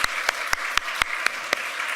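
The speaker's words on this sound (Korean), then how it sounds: "우리 큰 박수로 환영해 주시기 바랍니다" A crowd applauds continuously, a steady wash of clapping with a few sharper claps standing out at regular intervals.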